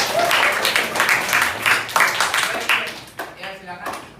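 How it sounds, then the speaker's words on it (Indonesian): Applause and clapping from students in a classroom, a dense burst of many hands lasting a few seconds at moderate volume, with voices mixed in and the clapping thinning out toward the end. "tepuk tangan"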